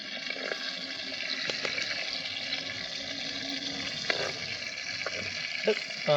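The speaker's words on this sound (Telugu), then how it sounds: "చేపలు అయితే వేగిపోయినాయండి" Seer fish (vanjaram) pieces fry in a pan of hot oil for a tomato salt fish curry, giving a steady close sizzle with occasional sharp crackles and pops throughout.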